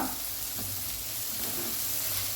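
Coriander seeds, cumin and peppercorns fry in a pan for a sprouted moong dal kurma, a steady loud crackling sizzle with a low background hum and no talking.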